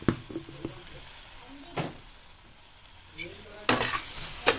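Turmeric is stirred into a paneer Schezwan gravy in a pan, with a soft sizzle underneath and a few sharp scrapes and clinks of the spoon against the pan at irregular intervals.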